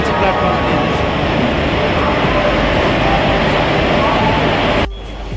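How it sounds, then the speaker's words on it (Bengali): A passenger train rolls into a station platform in Pune, a loud, continuous rumble and rail roar that fills most of the moment before cutting off abruptly near the end. "ট্রেন কিছু ঢুকে গেছে প্ল্যাটফর্মে।"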